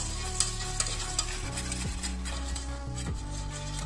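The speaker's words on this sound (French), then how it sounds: "On prend le petit fouet et on va remuer tout ça." A small whisk stirs flour into melted butter in a pan for béchamel, producing soft rhythmic scraping strokes over a gentle sizzle and a low steady hum.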